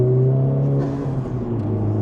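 A 2025 Hyundai Elantra N engine revving at half throttle, a loud, close, steady droning whir with strong harmonic tones that dip and shift slightly as the revs change.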